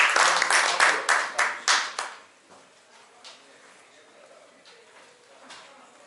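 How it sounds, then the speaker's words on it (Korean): An audience claps to welcome the seminar host, a loud burst of applause in pulsing waves that fades out after about two seconds, leaving a quiet room with a few faint knocks. "큰 박수로 맞이해 주시기 바랍니다."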